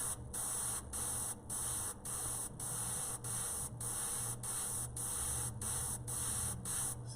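Hissing black aerosol spray paint in a series of short, even bursts, about ten blasts separated by brief pauses, close and steady with no talking.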